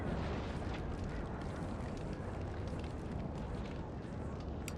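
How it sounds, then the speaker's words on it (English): Cannon fire in Napoleon: Total War, a Napoleonic battle in which a building collapses into rubble: a continuous, loud rumbling roar of explosions and booms with scattered bursts throughout, and no talking. "That building has just turned into rubble."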